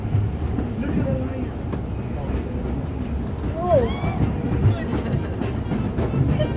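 The Disneyland Railroad train rolls along the rails with a steady low rumble and rattle, while squealing wheel or brake tones rise briefly and a voice announcement plays over it.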